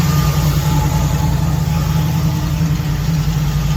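A Ford 390 V8 idles steadily on cheap aftermarket mufflers, a loud, close, continuous low rumble with slight unevenness and no voices over it.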